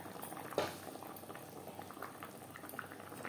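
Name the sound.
egg and potato curry gravy boiling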